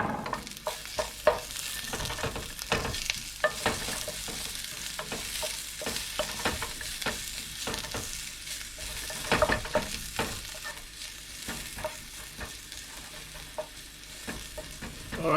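Onion and garlic frying in a pan for Filipino chicken adobo, a continuous close sizzle broken by frequent utensil scrapes and stirring clatters throughout, with no talking.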